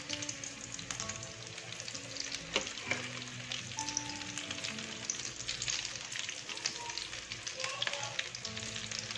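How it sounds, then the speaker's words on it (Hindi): Aloo tikki potato patties fry in oil over a low flame, giving a continuous soft sizzle and crackle with light spatters throughout, fairly quiet and steady. "दूसरी साइड से भी हम इसी तरह गोल्डन होने तक पकाएंगे हल्की आंच पे।"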